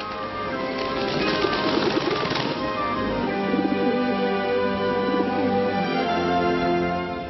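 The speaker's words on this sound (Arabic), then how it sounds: "ونزل الروح القدس على سيدنا عيسى في صفة حمامة." Soft cooing of a dove, repeated low calls over a musical backdrop, moderately close and clear with no talking.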